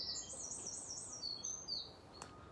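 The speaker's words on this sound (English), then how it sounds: "Listen to that bird song," Birds sing faintly outdoors on a morning walk, with a thin high warbling song over a soft steady background and no talk.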